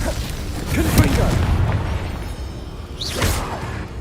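Confringo spell blasts in Hogwarts Legacy land as booming bursts with whooshes, one heavy hit near the one-second mark and another around three seconds, over continuous game rumble.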